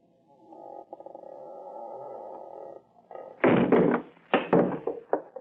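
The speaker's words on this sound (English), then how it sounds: "I'm going to shove the door open, shine my light in." Door being shoved open in an old radio drama sound effect: a long creaking scrape, then several loud heavy thuds and knocks close by, with no one talking.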